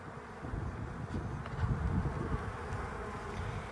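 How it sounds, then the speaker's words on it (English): A swarm of honeybees fans and marches into a collection box, a steady dense buzzing hum that swells slightly midway, close and continuous with no voices. "They're already down there fanning and marching in."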